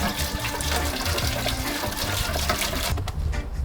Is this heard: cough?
no